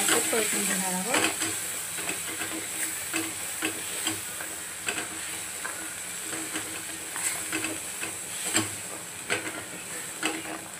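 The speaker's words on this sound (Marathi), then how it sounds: "आपण वाटलेला मसाला ॲड करून छान असं परतून घेणार आहोत." Ground spice paste for a katla fish curry is stirred and sautéed in a pan, giving a steady sizzle and hiss with repeated scraping stir strokes close by.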